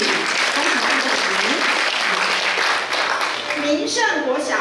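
Steady, full audience applause at a school principals' handover ceremony, continuous dense clapping heard fairly close throughout, with some voices and brief speech mixed in.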